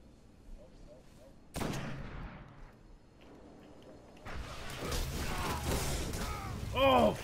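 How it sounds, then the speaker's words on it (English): In the Destiny video game, a shotgun fires as a sharp, loud blast, followed later by a louder stretch of dense in-game gunfire and mechanical clatter, with a brief voice near the end. "He just shot his shotgun at me."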